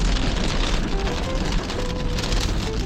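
Light drizzle patters on a car during a road trip, a continuous hiss of rain on the surface over a low road rumble, with no voices.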